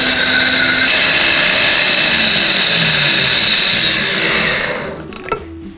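An electric blender whirring steadily as it mixes a cheese sauce base with paprika, a loud continuous motor whine that runs for several seconds, then winds down and stops with a small clunk.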